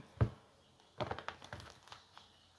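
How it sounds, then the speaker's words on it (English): A sharp papery slap, then a quick run of soft riffling and crinkling as tarot cards are shuffled close by, no talking. "One last shuffle."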